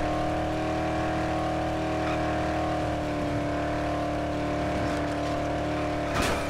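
A car engine drones steadily at a sustained pitch in the Dead Island video game, the vehicle driven badly, with a faint tire scuff and a short bump near the end.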